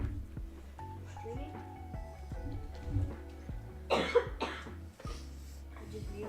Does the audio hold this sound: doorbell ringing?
no